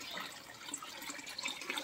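Water rushes steadily through a water softener during its fast rinse cycle, a close, even hiss of flowing water with no voices.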